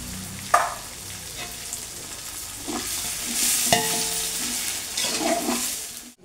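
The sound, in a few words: roasting coriander in a pan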